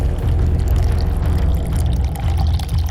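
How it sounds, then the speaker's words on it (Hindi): Floor cleaner concentrate from a 25-gram sachet being poured into a 500 ml plastic bottle, giving a steady, close, continuous pouring rush for about three seconds with no talk. "उसी बोतल के अंदर ये शैशे पोर कीजिए।"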